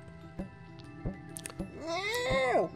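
A cat meows in the Machinarium video game, a rising then falling cry near the end, after a few soft ticking clicks over a steady musical background.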